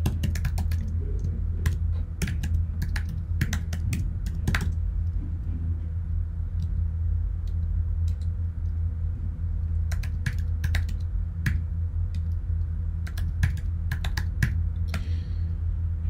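Fingers type commands on a computer keyboard in quick bursts of clicking keystrokes with short pauses between, close and clear over a low steady room rumble.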